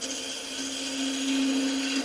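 A wood lathe turns a wooden gnome ornament as a tool rounds it over, making a loud, continuous motor whine with a steady hum and a slight rise in intensity partway through.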